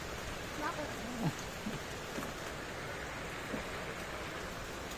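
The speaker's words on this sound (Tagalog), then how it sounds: "Lumakas ang ulan eh." Heavy rain falls steadily during Super Typhoon Uwan at a fishing village pond, a constant broad hiss of downpour with a few faint voices talking briefly underneath.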